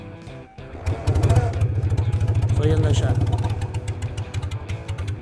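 A vintage 1963 BMW R50/2 boxer twin motorcycle engine thumps in a steady, lumpy idle rhythm close by, with someone talking over it briefly.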